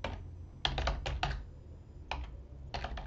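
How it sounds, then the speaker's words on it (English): Quick bursts of keystrokes on a computer keyboard, a few clusters of rapid clicks separated by short pauses, close and fairly quiet, typing text for an on-screen title. "Typing too quickly."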